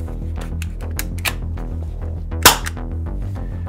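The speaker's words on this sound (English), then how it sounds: "Push the safety to the fire position, then pull the trigger to fire." A spring-powered CZ 75D Compact airsoft pistol fires one sharp, loud snap about midway, a single isolated shot standing out over a steady low background hum.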